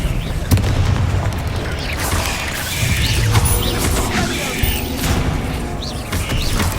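A spell cast in the Hogwarts Legacy video game, loud booming magical blasts and crashing impacts layered with whooshing effects and game sounds, several bursts over a few seconds with a cast voice line mixed in.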